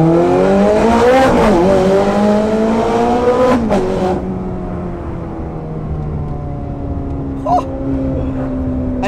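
A Ferrari 430 Scuderia revved hard, shrill engine climbing and dropping through two sharp bursts, then settling to a lower idle with a few crackles from the exhaust, close and loud.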